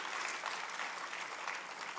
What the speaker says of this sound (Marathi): जोरदार टाळ्या आपण वाजवायला पाहिजे